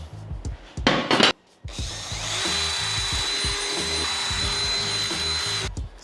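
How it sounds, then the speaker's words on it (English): Power drill boring bolt holes for a DIY floating Packout mount in a Toyota truck bed: a short burst, then a steady, loud, close whine that runs for about four seconds with a constant tone and no speech. "Let's drill the rest of them out."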